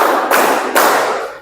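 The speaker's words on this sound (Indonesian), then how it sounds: "Oke, tepuk dulu kalau gitu." Classroom clapping during an ice-breaking game, a couple of broad noisy bursts of hands striking together, close and fairly loud, with no talk.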